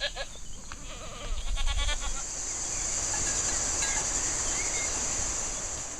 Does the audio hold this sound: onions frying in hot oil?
no